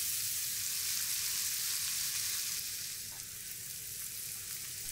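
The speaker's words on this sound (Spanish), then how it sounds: "Mezclamos y dejamos sofreír." Garlic, chopped onion and green pepper fry in oil in a pan, giving a steady, close sizzle with a faint stir partway through.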